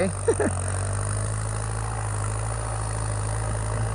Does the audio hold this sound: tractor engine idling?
yes